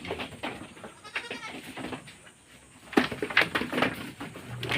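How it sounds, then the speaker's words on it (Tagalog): Several goats bleat in their pens nearby, overlapping calls rising and falling against a busy farmyard background. "So, ayan yung ating mga kambing."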